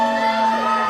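A wrestling show crowd cheers and chants in a sustained, loud roar that fills the arena without a break.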